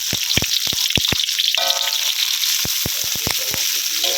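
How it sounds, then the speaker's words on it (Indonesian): Shallots sautéing in a modest amount of vegetable oil for a stir-fried Brazilian spinach dish, a steady bright sizzle with sharp crackling pops scattered throughout, close and continuous. "Lalu kita tumis itu bawang"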